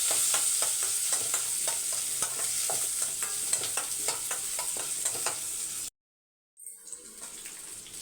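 Mustard seeds, cumin, curry leaves and a large onion sizzle in hot oil while being stirred, a steady close crackling fry with scraping strokes that cuts out abruptly near the end, then a faint sizzle resumes.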